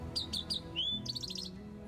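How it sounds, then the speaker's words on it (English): Fake bird chirping played at Augusta during the Masters golf tournament: a few quick, high tweets followed by a short fluttering trill, faint over a soft ambient hum. "Rory was duped by fake birds at Augusta."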